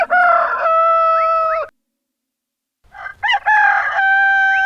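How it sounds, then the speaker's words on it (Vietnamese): A rooster crows loudly and close by, a long sustained call followed by a silent pause and then a second crow beginning, clear and alone with no talking. "Kìa, tiếng gà đã gáy sang"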